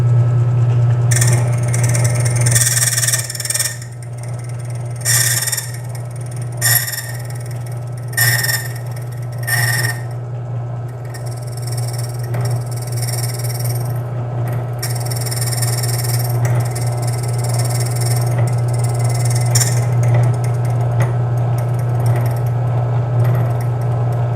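A key cutting machine makes its first cut, a steady motor hum under repeated bursts of scraping and grinding that come in short bursts early on, then run more continuously, close and loud throughout.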